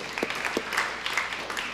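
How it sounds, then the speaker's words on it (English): Audience applause at a school district meeting, a short soft patter of clapping with a few sharper claps standing out, fairly distant and thin. "big round of applause for that"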